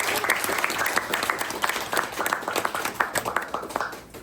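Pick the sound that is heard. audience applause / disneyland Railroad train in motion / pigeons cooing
audience applause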